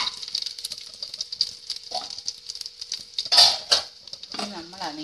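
Pineapple sweet curry (pineapple mathura kari) stirred in a pan, giving soft scraping and light sizzling patter through the clip, with a spoon clattering near the end.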